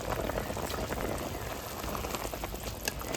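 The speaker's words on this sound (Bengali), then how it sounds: "ঝোলটা হালকা ফুটে গেছে" A milky curry broth with pointed gourd simmers gently in a pan, giving a constant close bubbling and crackling hiss that stays even throughout, with no voices.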